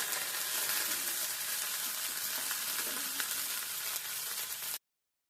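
A ground paste of green chili, ginger and cumin sizzles steadily in a hot pan for a cauliflower curry, a close and continuous frying hiss with no talking, cutting off abruptly near the end.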